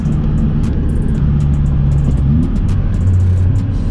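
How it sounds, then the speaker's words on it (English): A turbocharged 2018 Honda Civic Sport idles and revs with a deep, muffled exhaust rumble, steady and close throughout, with a few faint high clicks on top. "Hopefully you can hear the exhaust very well, because like I said, it's turbo"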